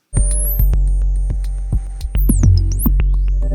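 An Elektron Syntakt groovebox plays a different patch: a deep, loud droning bass with sharp clicky percussive hits and rising zapping synth sweeps, all electronic and close, with no voices.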